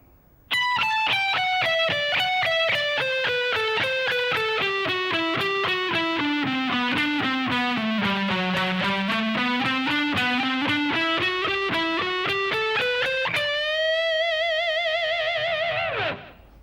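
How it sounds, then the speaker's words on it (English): Distorted electric guitar plays a fast alternate-picked funk rock lick, a steady stream of rapid notes sweeping down and back up in pitch, ending on a sustained bent note. It is loud and alone. "So that whole alternate picking lick should sound like this."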